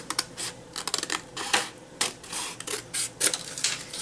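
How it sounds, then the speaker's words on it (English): Scissors snip through paper for a journal page in quick, close, crisp bursts of irregular cutting sounds with short pauses between them. "I'm just going to cut this here."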